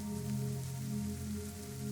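Soft, steady rain patters against a window, a continuous gentle hiss under a low, even hum, with no voices.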